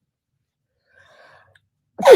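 A single sharp allergy sneeze bursts out at the end after a near-silent pause, loud and close.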